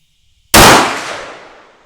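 A single loud .444 Marlin shot from a CVA Scout TD rifle firing a Hornady 265gr FTX load at a range cracks sharply after a moment of near silence, then rings out in a long decaying echo.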